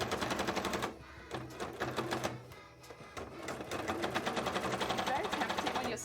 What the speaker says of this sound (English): It's very tempting when you're sewing through fabric this thing to like push through it.